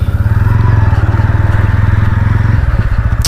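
A TVS Ronin 225 cruiser motorcycle engine thrums in a steady, close, pulsing idle and low-speed ride, its rhythmic exhaust beat shifting briefly near the end, with no one talking.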